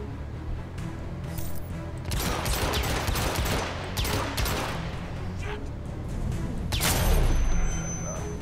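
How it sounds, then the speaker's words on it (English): Sustained gunfire in the third-person stealth shooter Hitman: Absolution, with a steady barrage of rapid shots and bursts stretching across the firefight and a louder cluster near the end, no talking over it. "I just gotta go over here and shoot these motherfuckers."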